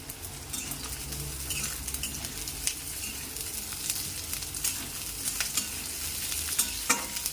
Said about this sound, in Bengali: এরপর আমরা সজনে ডাঁটাগুলোকে একটু হালকা করে ভেজে নেব।